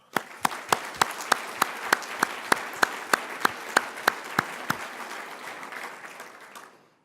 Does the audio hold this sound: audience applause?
yes